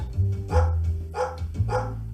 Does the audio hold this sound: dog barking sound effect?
yes